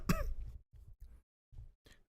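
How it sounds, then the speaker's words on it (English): One person coughs and clears their throat up close, a strong first burst followed by several shorter, rough hacks separated by brief silences. "That cough is still there."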